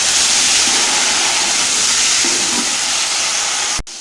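Tomatoes and onions fry in a pot for desi chicken pulao, giving a loud, steady, close hiss of sizzling that runs unbroken throughout, with a brief soft knock near the end.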